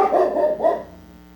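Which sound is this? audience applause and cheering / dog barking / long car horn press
dog barking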